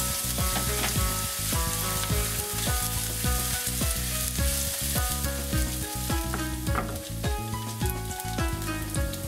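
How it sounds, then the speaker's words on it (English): Green onion stir-fries in sesame oil in a pan: a loud, continuous sizzle broken by repeated clacks of a utensil against the pan, with no talking. "First, stir fry green onion for about 20 seconds."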